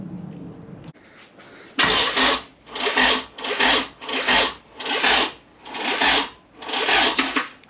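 An engine cranks after one sharp click, with seven even, rasping starter cycles that repeat rhythmically without catching, loud and close in a quiet garage.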